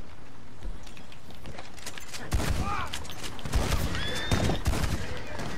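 Horse whinnies in Red Dead Online, with curved rising and falling cries over a steady bed of in-game gunfire and commotion during a frontier battle, loud and mixed with other game sounds.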